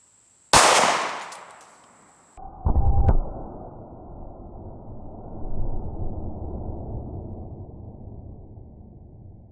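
A subcompact pistol fires a hollow point round into gel through a heavy clothing layer: one sharp, loud report with a ringing tail, followed by a second burst of clatter and a long low rumble fading out.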